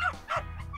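A small chihuahua barks twice in quick, sharp yips from a played video, each bark bright and fairly loud, with a whiny tail between them.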